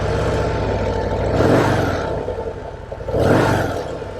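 Harley-Davidson Breakout 117 cruiser motorcycle engine revving up twice in strong surges over a steady loud idle rumble, close by, as the bike gets ready to ride off.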